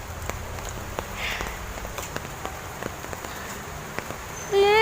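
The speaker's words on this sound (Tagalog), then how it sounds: "Ulan po." Rain falls in a steady, hissing patter across the whole stretch, with scattered sharper drops and a brief tonal whine near the end.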